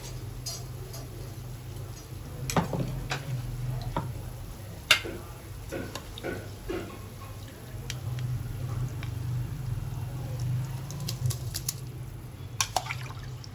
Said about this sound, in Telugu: వాటర్ బాగా బాయిల్డ్ అవుతున్నాయి చూసారా